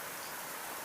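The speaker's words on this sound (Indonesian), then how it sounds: "tapi terjebak oleh hujan deras di seputaran Puskesmas Gele" Heavy early-morning rain pours down near a village health clinic, a dense, even hiss of drops drumming on surfaces. It stays close and loud throughout, with no talking.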